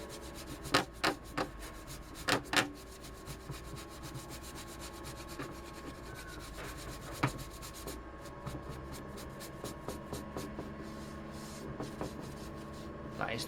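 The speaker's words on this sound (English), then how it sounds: "clean with a brush" A brush scrubs dust off the case of an Atari STe 520 computer with soft, close rubbing strokes over a steady background hum, punctuated by a few sharper taps and scrapes.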